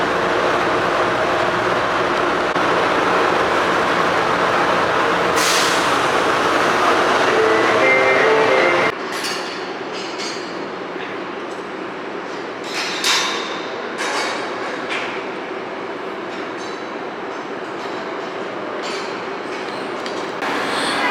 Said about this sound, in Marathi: आतमध्ये ही म्हणजे शटल जशी मगाशी आपल्याला बस होती त्याची आता इथून ही ट्रेन आहे